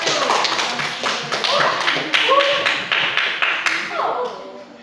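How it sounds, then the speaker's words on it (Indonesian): Students clap their hands in a classroom, giving a group of brisk, uneven bursts of claps in a loose rhythm, close and fairly loud, while voices call out over the clapping. "ayo kita tepuk tangan dulu"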